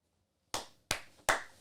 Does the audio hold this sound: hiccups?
no